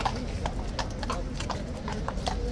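Large horse hooves clip-clop in a steady, regular rhythm on hard ground as a big horse walks with King's Guard troopers, the footfalls clear over a constant low background rumble.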